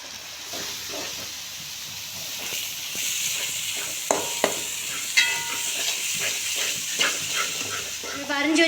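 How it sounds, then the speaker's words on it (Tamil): Chopped onions sautéing in oil in a pan while making pav bhaji, giving a steady close sizzle and hiss broken by occasional scrapes and stirring clicks, no talk. "இதில் நம்ம கட் பண்ணி வச்ச வெங்காயத்தையும் போட்டு வதக்கிக்கலாம்."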